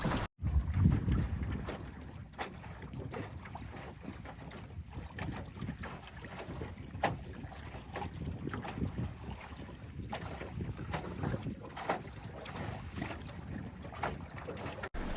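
A sailing canoe cuts through open water in steady wind, with continuous wash and gusty wind buffeting the microphone throughout, and no voices.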